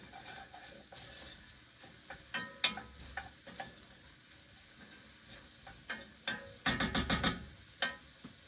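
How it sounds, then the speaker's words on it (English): A spoon stirs mandarin and sugar inside a jar, giving soft scraping and a scattered series of light clinks and taps against the glass, quiet and close, growing busier toward the end. "I'm going to mix this really quick."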